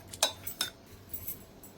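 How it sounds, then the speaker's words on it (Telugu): A ladle clinks against a pot while mashing cooked dal for thotakura pappu, giving a few light metallic taps spaced irregularly, close and fairly quiet. "ఇప్పుడు ఒక్కసారి గరిటెతోటి చక్కగా ఇలా ఎనిపోయండి"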